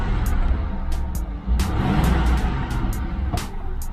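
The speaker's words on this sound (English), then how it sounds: "Let's rev it a little bit." Ford Crown Victoria V8 fitted with a Honda Civic intake, revving at idle in a steady continuous engine drone with a few throttle blips, close and loud, no talking.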